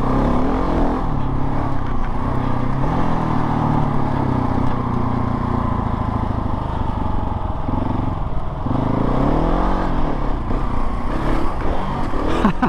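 A modified KTM 690 Enduro single-cylinder adventure bike rides a rutted trail, its engine loud and close in a continuous throbbing drone that rises and falls as the throttle changes, with no voices over it.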